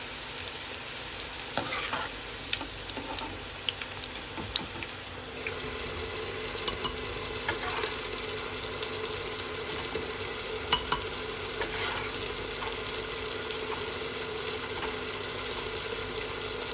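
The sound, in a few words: frying and stirring minced meat with bitter gourd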